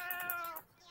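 A cat meows in the Roblox game Raise a Floppa, a single short, clear, drawn-out meow with a slight pitch fall, heard alone.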